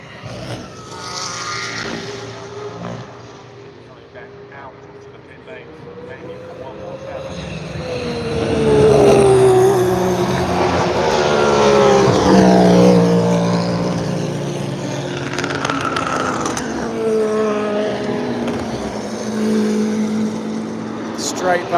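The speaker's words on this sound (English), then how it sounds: "That car sounds amazing. And the Mustangs have a deeper sound to them." Race cars at Le Mans during the night session, including Mustangs, roaring past trackside with engine notes rising and falling through long pass-bys, while nearby spectators chat over the noise.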